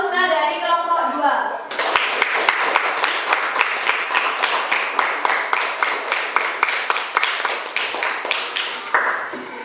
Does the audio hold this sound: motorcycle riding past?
no